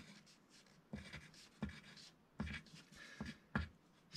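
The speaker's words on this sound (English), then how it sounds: "Let's just quickly write it down on here" A pen writes by hand on paper, close and quiet, with irregular scratchy strokes and several sharper taps as letters are formed.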